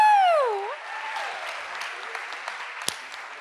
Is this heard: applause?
yes